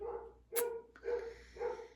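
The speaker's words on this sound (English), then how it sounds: "except for my dog barking outside" Dog barking outside a rural home, three spaced barks at moderate distance, faint and alone.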